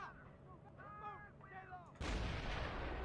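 White phosphorus artillery rounds in the WWII strategy game Men of War: Assault Squad 2. A low ambient rumble with whistling tones is followed by a single loud, broad blast that sustains into rolling noise.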